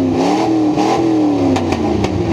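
A Ford F100 truck with a custom NASCAR-style exhaust revving, a loud, close, throaty engine note that rises and falls with the throttle and ends in a few sharp crackles.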